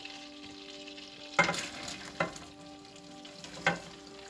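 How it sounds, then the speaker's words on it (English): Onions are cooking in melted butter in a pan, giving a faint, steady sizzle, with three short clatters of stirring against the pan. "the butter has begun to melt, and now it fully coats the bottom of the pan. So we're going to go ahead and carefully add the onions."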